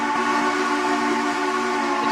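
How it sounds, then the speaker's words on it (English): Whistle of the Blue Comet steam locomotive, a steady sustained tone with several layered harmonic pitches holding evenly for about two seconds, loud and alone with no talking. "It sounds a lot like Big Boy's whistle, Trevor."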